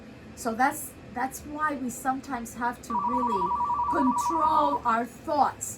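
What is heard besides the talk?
telephone ringing during a virtual session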